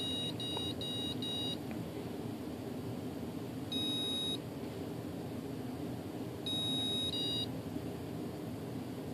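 Three bursts of high electronic beeps from a model glider's electronic speed controller, each a quick rapid series of tones, repeat at intervals over a steady whirring motor hum.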